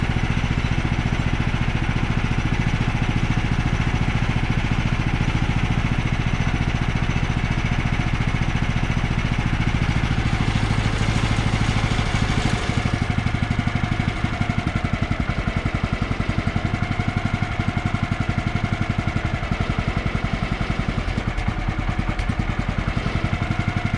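A sawmill engine idling steadily and close, its low rumbling drone settling to a lower, rougher idle partway through as the idle speed is turned down.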